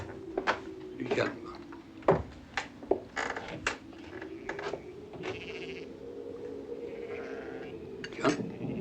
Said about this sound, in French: C'est drôle, les moutons remontent déjà.